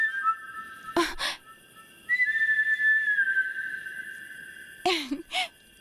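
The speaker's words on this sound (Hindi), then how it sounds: "ये सीटी वही बजा रहा है।" Shrill whistle blasts sound in a dramatic film scene: two sharp short bursts, then a long sustained high tone with a slight waver, followed by two more quick bursts, loud and close.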